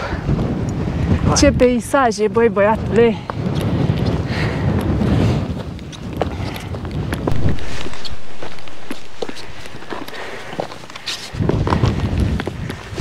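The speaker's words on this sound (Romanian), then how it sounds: "S-a pus un vânt foarte puternic, ne zboară de pe creastă." Strong wind on a mountain ridge in the Bucegi Mountains buffets the microphone in a steady roar, with people talking loudly over it and a brief burst of excited speech early on.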